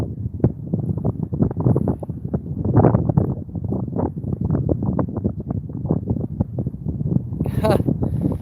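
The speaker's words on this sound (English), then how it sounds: "this wind is murder" Gusty wind buffets the microphone outdoors by the water while fishing, a constant rumbling thump that fills the whole stretch, with a person talking faintly underneath.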